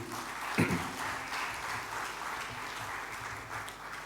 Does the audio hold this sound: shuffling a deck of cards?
no